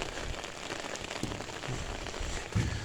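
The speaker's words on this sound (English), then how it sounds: "it's kind of rainy still. Still raining right now." Rain falling outdoors after storms, a steady soft hiss of drops pattering on surfaces, fairly faint and even with a few slightly louder drips, no talking.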